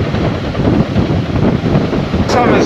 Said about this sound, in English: this is taking the brunt of all the wind that's happening on the island